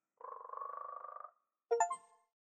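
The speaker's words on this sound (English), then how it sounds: "Frog is in my right ear." A frog croaks in the video game Jisatsu: a steady, buzzing, reedy call about a second long, then a brief pause and a shorter, sharper burst of croaking, clear and close with no talk.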